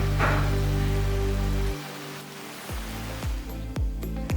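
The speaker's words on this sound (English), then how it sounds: "We even got to experience a rainforest hike in the rain." Steady rain falls on a rainforest hike in Costa Rica, a broad continuous hiss of drops on foliage and ground, with a deep rumbling layer that drops out midway and several sharp dripping splats near the end.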